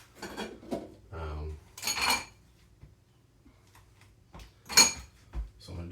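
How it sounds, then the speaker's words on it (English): Dishes being washed by hand at home, with clattering pots, cutlery and clinking crockery in irregular bursts, some loud and close, separated by quieter gaps; a person speaks in between. "Do a bit of dishes here before I can do anything really"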